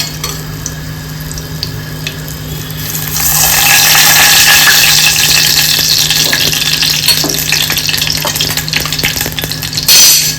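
Spice tempering sizzles loudly in hot oil inside a pressure cooker while chole is being made, a steady hiss that swells after a quieter start and runs on with faint stirring clicks.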